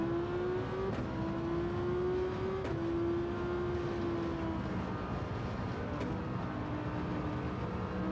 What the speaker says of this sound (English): we boosted with the nitrous